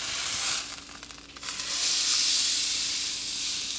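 A salmon fillet sizzles steadily in a frying pan just after being flipped. The hiss dips briefly, then swells back into a loud, continuous fry.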